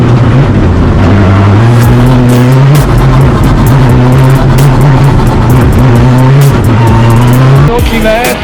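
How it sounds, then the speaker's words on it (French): A race car at a motorsport competition in Dreux roars at high revs with tires squealing, loud and sustained as it drives fast, while a commentator talks over it throughout. "on a un pilote qui descend vite, ça doit être Emmanuel"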